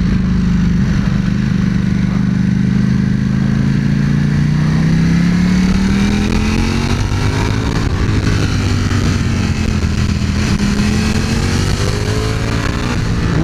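A Ducati Panigale V4 S motorcycle engine revs hard and continuously on a race circuit, its pitch climbing and dropping through gear changes. It is loud and close, with no talking.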